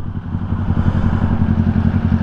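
A Kawasaki Ninja 400 race bike fitted with a Yoshimura R11 full exhaust system, on a Manila road, idles and burbles close up with a loud, throbbing low exhaust pulse that swells slightly, no voices.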